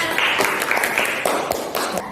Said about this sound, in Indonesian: tepuk tangan dulu untuk Nana